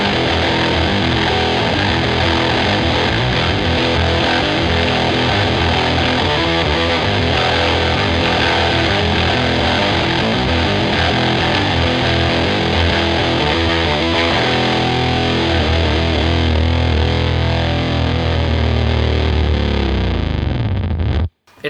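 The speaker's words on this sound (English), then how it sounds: "Now this is where I deploy the whammy." Heavily distorted electric guitar riff played through a whammy pedal that adds a lower octave, loud and dense throughout, then cutting off abruptly at the end.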